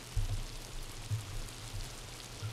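Steady rain falling in the video game Miasmata, a soft continuous hiss with low rumbling undertones throughout, no voices.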